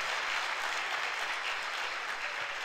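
A church congregation claps during a service, giving a soft, even wash of applause from a distance with no break.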